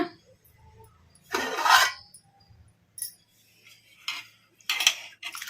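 A metal plate lid is lifted and set aside from a bowl of soaked cowpea lentils, giving a loud clattering scrape followed by several short, sharp metallic clinks and taps, close by with quiet gaps between them.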